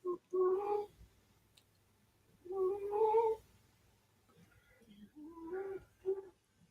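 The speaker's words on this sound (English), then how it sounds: "What you're hearing is the cat." A cat meows several times in drawn-out, tonal calls with pauses between, fairly close and otherwise quiet.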